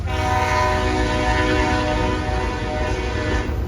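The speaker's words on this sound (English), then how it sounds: "we find CSX M648 as it pulls north at the north end of Latham Siding in Hopkinsville," A CSX freight train, M648, pulls north past the end of Latham Siding in Hopkinsville, Kentucky, its horn blaring in a steady, loud sustained blast over the low rumble and rattle of the moving train.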